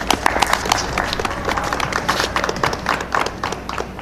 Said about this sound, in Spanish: Fuerte aplauso al finalista Pablo Zubieta